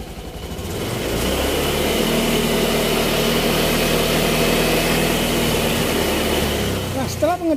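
A motorcycle engine idles while it charges a car battery, a steady close rumble that starts about a second in, runs evenly for several seconds and then cuts off near the end, with no talking.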